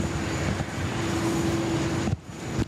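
A Qantas airliner taking off from runway 16 right at Sydney Airport, a steady loud engine roar with a sustained whine, heard from a distance and continuous for the whole stretch, with a brief drop near the end.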